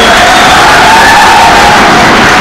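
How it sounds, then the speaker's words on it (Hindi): A large crowd at a mushaira poetry gathering, a dense, very loud wash of sustained applause and cheering that fills the room continuously, with no clear speech. "एक बार जोरदार ताली आप अपने इंस्टीट्यूट के लिए बजाइए"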